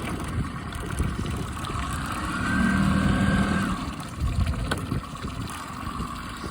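A Yamaha 9.9 High Thrust four-stroke outboard runs in reverse on open water, a steady low engine drone with a faint whine and water wash that swells slightly midway, with no talking.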